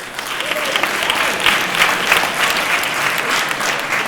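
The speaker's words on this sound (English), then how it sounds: "Can we give a round of applause?" A crowd breaks into steady, continuous applause, many hands clapping together at a lively, even level throughout.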